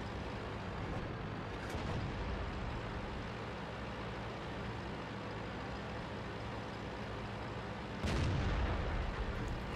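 In the World of Tanks game, a tank gun fires with a deep booming report twice, once near the start and once louder toward the end, over a constant rumbling engine drone.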